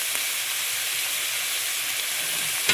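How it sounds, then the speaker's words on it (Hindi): Chicken frying in a pan in a village kitchen, a steady, loud, bright sizzle that holds evenly throughout with no talk. "10 मिनट तक इसको पहले बढ़िया से फ्राई करते हैं"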